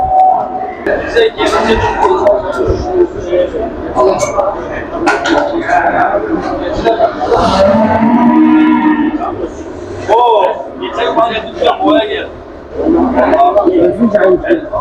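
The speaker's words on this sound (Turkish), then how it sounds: "Şuraya bir grup kuzu gelmiş arkadaşlar." Lambs and sheep bleat and call repeatedly at a busy livestock market in Kulu, Turkey, while people talk throughout.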